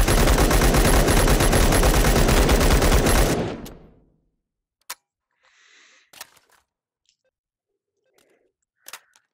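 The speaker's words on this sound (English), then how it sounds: "Oh, now I have a machine gun." A machine gun fires continuously in the VR shooting game H3VR, a loud rapid automatic burst lasting about three and a half seconds before cutting off, followed by a few faint clicks and handling sounds.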